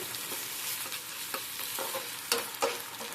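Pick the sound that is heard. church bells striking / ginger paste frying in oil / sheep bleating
ginger paste frying in oil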